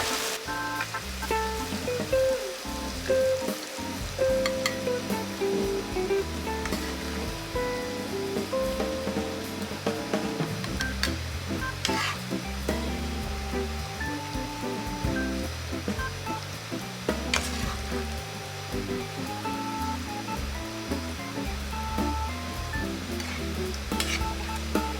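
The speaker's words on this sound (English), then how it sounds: "this is stir fried tofu and pork meat" Tofu and pork stir-fried with cherry tomatoes and vegetables in a hot pan, a steady close sizzle running throughout with frequent scraping and stirring strokes, no voices.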